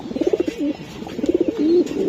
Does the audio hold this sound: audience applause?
no